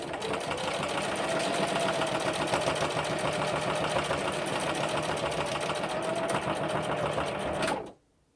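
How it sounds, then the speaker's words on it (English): A sewing machine runs steadily for about eight seconds, stitching together the two raw edges of a fabric pouch, with a fast, even mechanical whir that stops abruptly at the end. "you're going to sew the two raw edges together."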